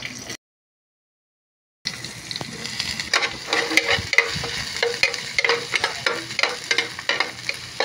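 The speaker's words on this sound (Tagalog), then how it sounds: "yung pinagprituhan natin ng isda, ito yung ipanggisa natin para lasang-lasa yung gagawin nating masarap na ulam" Onion and ginger sautéing in leftover fish-frying oil in a pan, a steady loud sizzle with stirring scrapes that starts after a brief silent gap, with no voices.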